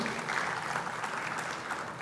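Audience applause for the Outstanding Entrepreneurship winner at a young alumni excellence awards ceremony, a steady dense wash of clapping from a crowd throughout, fairly close and loud with no speech over it.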